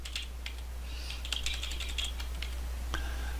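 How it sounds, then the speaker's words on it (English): Computer keyboard typing, a quiet series of irregular clicks and key taps at close range, with steady low hum underneath and no voices. "And we'll type some stuff in here."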